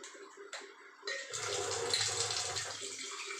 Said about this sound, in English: now I'm gonna add plenty of water with it.